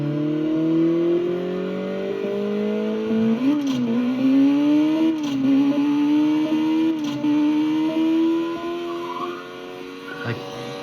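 Engine of a muscle car in the racing game Burnout Legends, revving steadily upward under acceleration with a dip around a gear change, loud and continuous throughout.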